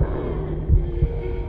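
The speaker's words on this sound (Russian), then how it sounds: "Сердцебиение появилось." Low, muffled heartbeat thumps in the video game Little Nightmares, two distinct pulses over a steady dark hum, with no talking.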